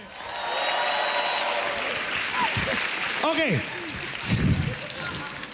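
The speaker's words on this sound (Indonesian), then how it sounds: "tepuk tangan sekali lagi untuk Babe" Studio audience at an Indonesian stand-up comedy grand final applauds in a broad, steady wash of clapping, with a host's voice and brief whoops cutting through partway.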